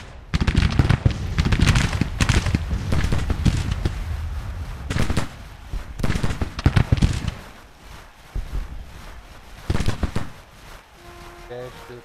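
Rifle fire in the Grand Tactician strategy game: crackling volleys and scattered shots, dense and loud early, then thinning into separate bursts. A voice talks over parts of it.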